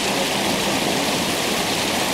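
A waterfall roars as a dense, unbroken rush of falling water, loud and steady like heavy rain, filling the whole moment with no voices over it.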